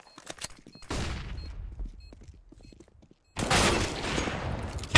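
Sniper rifle jump-shots in Counter-Strike: Global Offensive, two sharp loud gunshot blasts with ringing tails, the first near the start and the second a few seconds later, with faint game sounds between.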